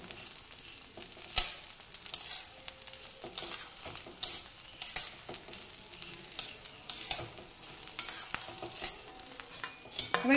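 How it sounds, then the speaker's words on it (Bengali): Edible gum (gond) puffing and frying in ghee over a low gas flame, with soft crackling sizzle and repeated metallic clinks of a spoon stirring in the pan, close and fairly quiet. "তো গোঁদগুলো দেখছেন কেমন ফুটে যাচ্ছে, একদম ফুলে যাচ্ছে"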